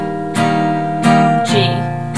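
Acoustic guitar strummed in steady downward strokes, each chord ringing out loud and close between strums, about four strokes over a couple of seconds with no talk.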